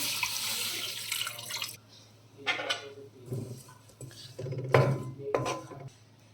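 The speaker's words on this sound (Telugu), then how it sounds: "వాటర్ వేసుకుందాం కొంచెం" Water is poured into a pan holding about half a kilo of jaggery to melt it. Splashing and trickling come in short bursts, mixed with metallic clinks of utensils.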